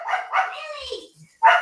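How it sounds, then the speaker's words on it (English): A dog barks at a cat in a few short, sharp bursts close by, followed by a final louder bark after a brief pause. "It's barking at a cat"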